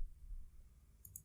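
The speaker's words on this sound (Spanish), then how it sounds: "le doy clic" A soft, faint double mouse click on an icon, two quick light taps near the end of an otherwise quiet moment.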